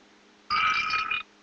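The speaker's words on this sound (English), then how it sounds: "Get a nice burp sound of it." Synthetic burp effect from the iBeer novelty app on an iPod Touch: a single short, buzzy electronic tone lasting under a second, fairly loud and alone, starting and stopping abruptly.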